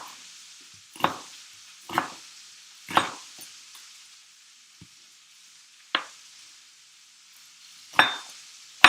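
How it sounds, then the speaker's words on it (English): A knife roughly chopping onion on a board: six sharp, separate chops spaced about a second apart over a faint background hiss, close and crisp, with no talk. "Just give them a rough chop."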